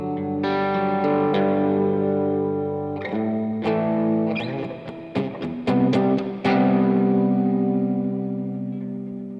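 Electric guitar played through a Chase Bliss Mood pedal set for reverb, with sustained chords and a few picked notes that ring out into a long, washy tail, loud and close with no talking.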